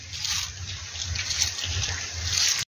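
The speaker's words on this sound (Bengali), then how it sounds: "চালটা এবার দিয়ে দিচ্ছি আস্তে আস্তে।" Rice is poured slowly into a pot of water seasoned with salt and whole bay leaves for chicken biryani, making a close, continuous watery rush and splashing that stops abruptly.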